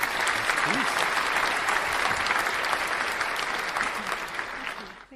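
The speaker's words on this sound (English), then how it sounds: "let's have some applause" Steady, dense applause from a studio audience on a talk show, loud and continuous before fading out at the end, with faint voices underneath.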